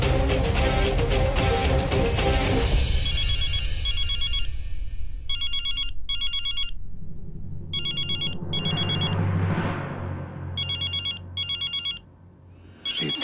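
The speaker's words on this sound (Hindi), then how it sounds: "रेवती जी का फोन।" A telephone rings in a Hindi TV drama scene, with a call coming in from Revati. The electronic ringtone sounds in repeated bursts after a musical opening and plays loud and close, with a short pause between the bursts.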